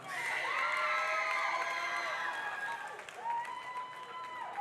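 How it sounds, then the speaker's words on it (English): A graduation audience for the class of 2019 breaks into steady applause mixed with cheering and high shouts, a dense, lively wash of clapping that fills the whole stretch. "Let's give them a round of applause."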